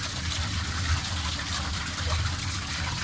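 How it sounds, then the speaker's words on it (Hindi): A water-driven generator pump runs close up, rated at 5 kilowatts, with water circulating through it from a tank, giving a steady rushing, gushing wash over a low, continuous mechanical hum. "ये आगे चलता हुआ ये मशीन है और पानी से चल रही है।"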